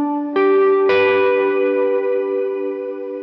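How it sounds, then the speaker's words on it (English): Electric guitar chord struck twice, once softly then harder, with reverb, delay and light overdrive, ringing out and decaying slowly in a worship style. "turn on your reverb,"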